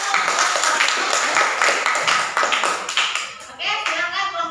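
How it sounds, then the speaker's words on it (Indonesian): Classroom audience of students clapping hands after a group presentation, a lively, fairly close burst of many claps that thins toward the end as chatter comes through. "tepuk tangan dulu"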